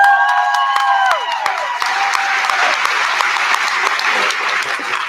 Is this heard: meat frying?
no